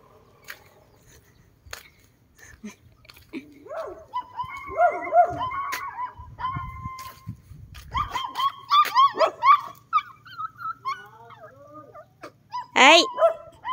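Dogs barking, yipping and whimpering in excited bursts, fairly close, with people talking in the background.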